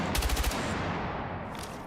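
A 123K rifle fires in Battlefield 6, a quick burst of about five sharp, loud shots in rapid rhythm, followed by a fading rumble of reverb and background game noise, with no talking.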